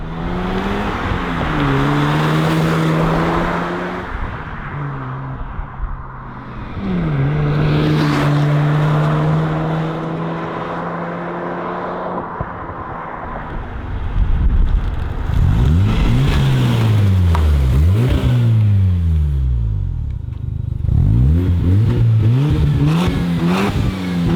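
An original Mazda RX-7's engine revs repeatedly with modified exhaust and no mid pipes, rumbling deep and loud as the pitch sweeps up and falls back in several close bursts.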